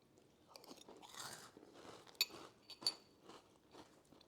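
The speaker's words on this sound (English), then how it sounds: "And can you hear the crunch?" Breakfast cereal crunched while chewing, close to the mouth and fairly quiet, with repeated soft crisp bites and a couple of sharper cracks.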